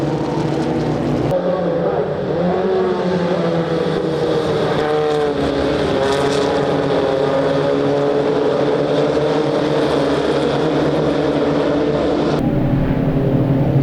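Formula V race cars lapping a raceway circuit, engines droning steadily and loud with shifting pitch sweeps as cars pass, under continuous commentary voice.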